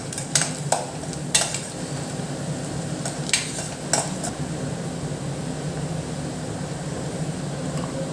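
Garlic and spices sauté for an anchovy curry, giving a steady low sizzle from the pan with a few sharp utensil scrapes and clinks against the metal near the start and again midway.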